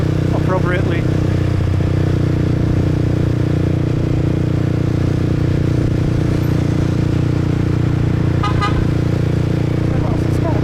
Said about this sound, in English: What else is this guy honking at?